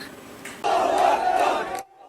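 An angry crowd in the streets of Hebron, a dense, loud roar of shouting voices that swells after a brief lull, holds steady, then cuts off abruptly.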